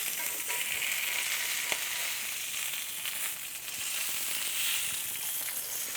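Salmon fries skin-side down in a pan until crisp, making a continuous soft hissing sizzle with a faint crackle, heard close and with no voices.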